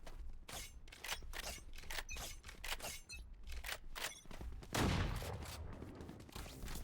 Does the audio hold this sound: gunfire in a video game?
yes